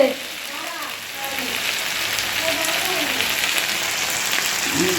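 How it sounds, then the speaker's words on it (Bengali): Potatoes frying in a pan give a steady, dense sizzle throughout, with faint bits of a voice and soft kitchen sounds beneath. "আলু ভাজা করছি"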